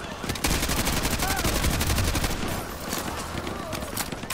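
Automatic gunfire in Call of Duty: Modern Warfare 2 Campaign Remastered rattles in loud, rapid bursts that run almost without break, with voices mixed in.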